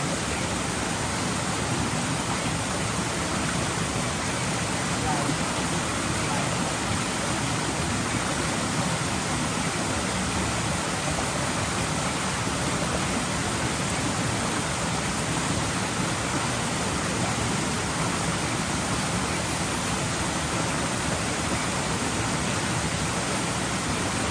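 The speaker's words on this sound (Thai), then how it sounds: "ฝนตกลงมาปล่อยๆนะครับ" Heavy rain pours down in a forest while people forage there, a dense, even hiss that holds unbroken and loud for the full length with no other sounds standing out.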